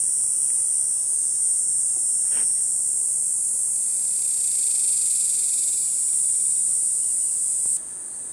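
A dense, steady high-pitched insect buzz drones continuously like a chorus of cicadas in a drought-dry creek floodplain wood, loud and unbroken, easing slightly at the very end.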